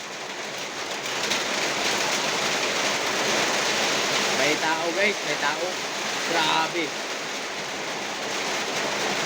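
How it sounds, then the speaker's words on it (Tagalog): Heavy rain pours down in a steady, dense hiss that fills the whole stretch. Someone speaks a few short words partway through, over the downpour. "Kusog tayo ang ulan guys"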